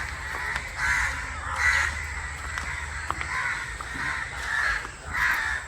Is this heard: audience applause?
no